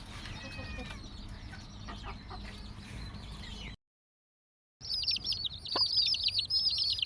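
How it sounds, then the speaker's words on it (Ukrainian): Chickens and roosters in a backyard coop cluck and chirp at close range, a continuous busy flock with brief bright calls, interrupted by a short silent gap. "Ось чорненький такий півничок."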